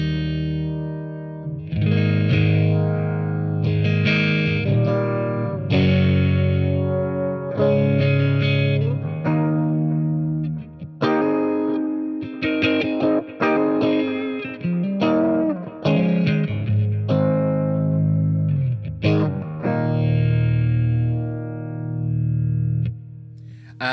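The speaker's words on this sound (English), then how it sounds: "Univibe." Electric guitar through a Boss Katana MK2 amp's univibe effect, throbbing and swirling, playing sustained chords and melodic lines continuously and fairly loud, with no voices.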